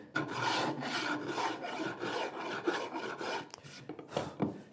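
Fine side of a rasp filed along the grain of wood, a steady run of close, dry rasping strokes with a brief pause near the end.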